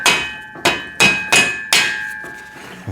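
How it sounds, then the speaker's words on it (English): A rubber mallet strikes a bushing being fitted to a home gym pec deck machine, five or six sharp, close blows in a loose rhythm, each trailing off into a ringing decay. "Rubber mallet I was telling you about before."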